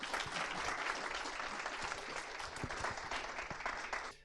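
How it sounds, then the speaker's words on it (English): An audience at a UX lightning-talks meetup applauds after a talk, giving dense, even clapping at moderate distance that carries on for about four seconds and then cuts off. "Huge applause."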